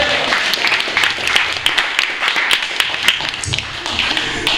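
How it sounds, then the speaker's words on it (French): Audience applause in a classroom after a beatbox demonstration, close, loud clapping from a small crowd with uneven bursts and sharp individual claps throughout. "On peut l'applaudir."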